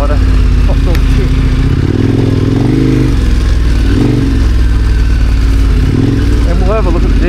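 A Kawasaki Ninja motorcycle rides in a group, its engine droning loud and close with heavy wind rush and shifting revs, while a voice talks faintly over the noise.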